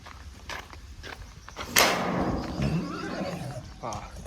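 A young foal whinnies in a loud, shrill neigh midway, with hooves thudding and stepping around it in a stable area, while a person talks nearby.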